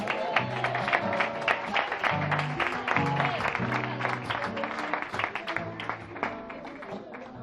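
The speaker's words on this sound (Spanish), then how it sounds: "¿Cuántos lo quieren dar un aplauso para el Señor?" Church congregation applauding, with a steady mass of clapping throughout while voices or singing sound underneath, fairly loud and close.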